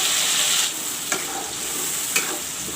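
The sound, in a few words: masala and onion paste frying in oil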